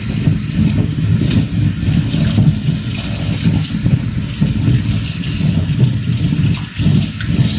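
Water sloshing and splashing steadily as cucumbers are stirred in a bowl before pickling, loud and close, continuous with no talk.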